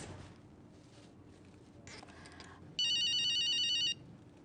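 An electronic telephone ringtone trills for about a second in one bright, warbling burst, loud and close, following quiet room noise and faint shuffling.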